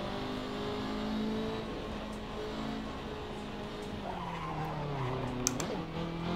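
Engine of a BMW M3 GT2 race car in a racing video game at Road Atlanta drones steadily with shifting pitch and brief tire squeal, moderately loud with no voice over it.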